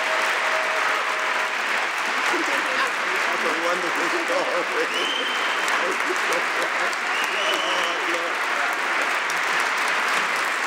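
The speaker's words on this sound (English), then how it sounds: "please, please join me in a beautiful round of applause for Dr." An audience in the University of Chicago's Rockefeller Chapel applauds Dr. Cornel West, a full, sustained round of clapping from a large crowd, with a voice briefly speaking over it.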